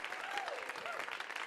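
Audience at a comedy show clapping for the DJ: steady dense applause from a crowd, moderately loud and continuous, with a voice rising through it.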